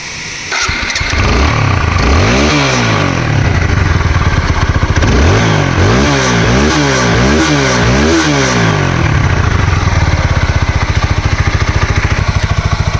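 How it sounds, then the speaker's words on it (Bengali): A red TVS Apache 4V 160cc ABS motorcycle starts up close by and settles into a loud idle, then gets a rapid series of sharp throttle revs that rise and fall before it drops back to a steady rumble. "গাড়িটা স্টার্ট করে সাউন্ড কন্ডিশন দেখাবো"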